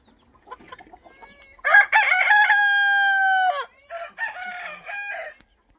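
A desi (native village) rooster crows loudly and close by on a poultry farm, one long drawn-out call, followed by a burst of hens clucking nearby.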